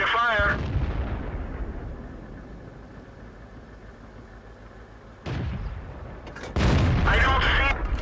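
World of Tanks Hetzer tank cannon firing: a loud booming blast opens, a low rumbling engine drone holds through the middle, then two more heavy shots burst out near the end.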